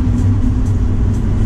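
Supercars drive through the city streets of Geneva, Switzerland, with a deep, loud engine rumble punctuated by three short exhaust crackle bursts spaced about half a second apart.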